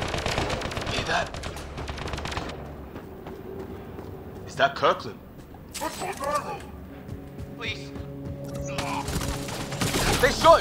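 Bursts of rapid gunfire crackle in a sci-fi combat scene from Mass Effect: Andromeda, with dense volleys at the start, scattered shots in the middle and more fire near the end, under frequent shouted voices.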